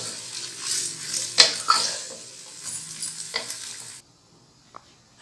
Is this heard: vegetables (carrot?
yes